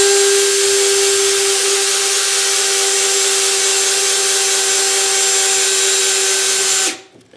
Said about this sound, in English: Make sure the drill is in forward.